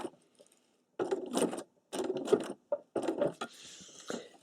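Sewing machine working a satin stitch around tulip curves, running in short bursts of rapid mechanical stitching with brief stops between them, close and moderately loud with no talking.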